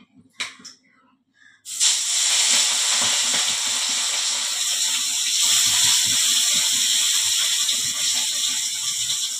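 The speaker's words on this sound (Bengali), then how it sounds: "মাছটা হালকা করে একটু ভাজি" Hilsa fish pieces fry in a smoking-hot kadai: after a brief quieter opening, a loud, steady hiss and crackle of oil bursts in and carries on close by without letup.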